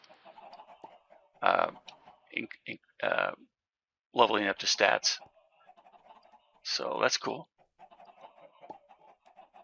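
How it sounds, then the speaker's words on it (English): Chickens clucking in the Minecraft modpack FTB StoneBlock 3, where gunpowder chickens are bred: short clucks and squawks in separate bursts, heard near and moderately loud, with someone talking over parts of it. "Okay, so we got gunpowder chickens already."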